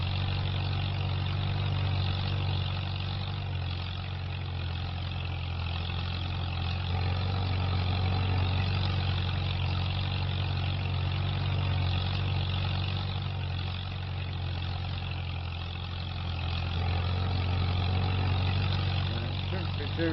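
A tractor engine runs steadily while baling hay in the Farming Simulator 25 game, a continuous low, rumbling drone that holds at an even level throughout with no clear breaks.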